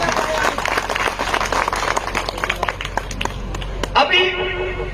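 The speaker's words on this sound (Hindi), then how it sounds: "बढ़िया, तालियां बजाएं, बहुत बढ़िया।" Audience applause at a public speech, dense clapping with a crowd roar under a loud amplified voice, fading near the end as the talk carries on.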